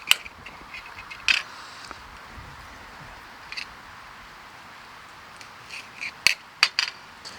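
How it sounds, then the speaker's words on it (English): A knife slices through a smoked sausage on a board with a few sharp taps and clicks, scattered among quiet pauses, the last cuts landing in a quick cluster of crisp knocks. "I'm going to go ahead and cut a second piece just because it was that good."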